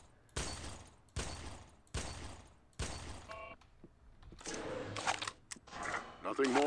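Gunfire at bottles during target practice in the Red Faction video game: four loud, evenly spaced shots, then a denser cluster of shots with clinks and rattles, voices speaking underneath.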